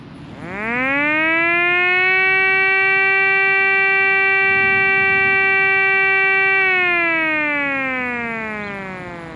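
A 3D printed STL-10 siren prototype winds up from a low growl into a loud, steady rising wail with strong harmonics, holds the pitch for several seconds, then slowly winds down in pitch and volume, heard alone.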